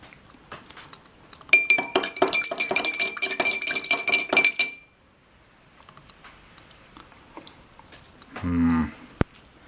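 Drink being mixed in a glass, likely vodka: a steady run of bright clinking and rattling against glass for a few seconds, a quiet pause, then a brief muffled pour or shake and a final sharp tap.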